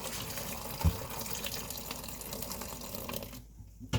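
Water runs and splashes steadily as it is poured over Koki beans being washed to remove their skins, with a couple of knocks and a sudden stop near the end.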